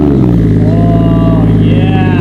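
Toyota JZX100 Chaser with a freshly fitted Tomei exhaust fires up and settles into a loud, steady burbling idle with a rising rev near the end, heard up close throughout.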